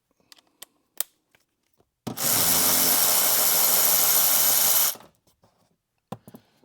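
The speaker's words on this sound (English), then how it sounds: "And then switch to the electric ratchet." An electric ratchet spins out the front seat bolts of a fifth-generation Toyota 4Runner in one loud, steady buzzing whir of about three seconds, with quiet clicks and handling before and after.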